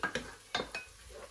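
Garlic and sliced ginger sautéing for a stir-fried bean sprout dish, heard as a few quick metallic clinks and scrapes of a spatula against the pan over faint sizzling, close and brief.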